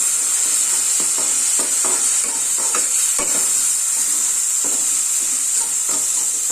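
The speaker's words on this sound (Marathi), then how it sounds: "आता थोडीशी आपण टॅमॅटो ग्रेव्ही घालूया" Tomato gravy spooned into sizzling mutton curry masala in a pan gives a loud, constant frying hiss, broken by irregular scrapes and clicks of stirring.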